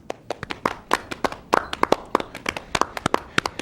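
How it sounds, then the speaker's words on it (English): Studio audience on a public access TV set clapping for an arriving guest, a brisk run of sharp, distinct handclaps from a small group, fairly close and uneven in rhythm. "freaking clap for him"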